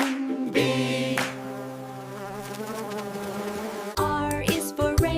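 Queen bee buzzing in a children's alphabet song, a loud close insect drone holding a steady pitch and then breaking into short, fluttering bursts near the end.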